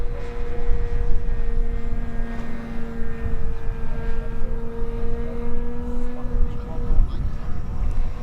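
A Sebart Extra SX 61-inch 6S electric RC aerobatic plane flies on high rates, its steady motor whine holding a sustained tone with shifting pitch, heard at moderate distance against wind and outdoor noise.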